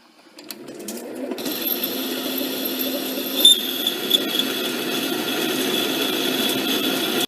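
A mini lathe hums steadily while boring a hole in a steel workpiece, close and even, with a faint high squeal from the cut partway through.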